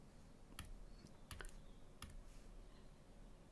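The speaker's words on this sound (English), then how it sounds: "So to get a calculator out, type it straight in." Keys tapped on a calculator while working through a calculus problem: a handful of sharp, quiet clicks in an irregular pattern, heard close against a faint steady background hum.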